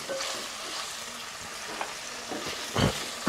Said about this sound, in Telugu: దగ్గరుండి చక్కగా కలుపుకుంటూ ఉండాలండి.